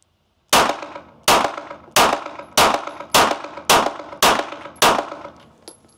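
A handgun fired one-handed with only the right hand at a shooting range, eight loud, sharp, evenly spaced shots, each ringing out with a short metallic echo.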